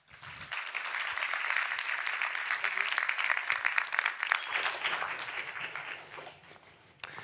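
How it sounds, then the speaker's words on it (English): A lecture audience applauds its guest, Dr. Joost Breeksema, with full, steady clapping from many hands that swells quickly, holds strong for several seconds, then fades out with a last stray clap. "I want a very loud applause for our guest of tonight, Dr. Joost Breeksema."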